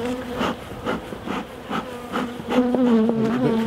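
Honey bees buzz in a crowded hive during a mite treatment inspection, a close, steady drone with pulsing swells and a louder, higher whine toward the end.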